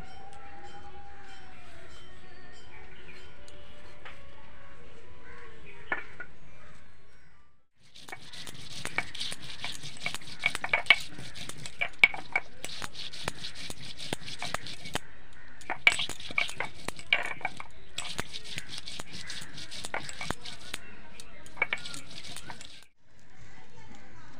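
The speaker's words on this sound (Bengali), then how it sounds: "মশলাটা এবার আমি বেটে নেব।" Green chili, ginger and cumin are ground into a spice paste for a cabbage and prawn dish: repeated runs of rough, rhythmic scraping strokes in several bursts with short pauses, after a quiet opening with faint voices.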